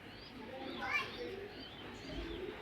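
Racing pigeons coo softly in a loft, a low faint burbling heard under nearby voices.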